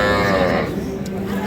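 A cow at a cattle market, likely a dairy cow of Sahiwal, Sindhi or local breed, lets out one close, loud, drawn-out moo that fades, with market chatter faintly behind.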